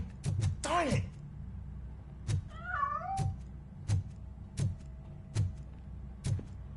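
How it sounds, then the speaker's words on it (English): Cat in the video game RoboCop: Rogue City meowing twice with rising and falling cries, clear and close, between regular thudding footsteps or knocks. "That cat must be hiding inside."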